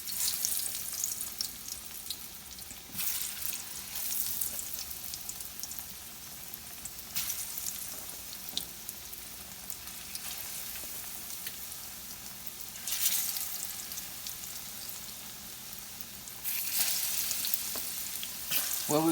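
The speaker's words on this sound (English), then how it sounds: "Our pan is hot. And we're going to add our plantain" Plantain slices frying in a hot pan, a steady crackling sizzle that swells into louder hissing bursts as more pieces go in, with no talking.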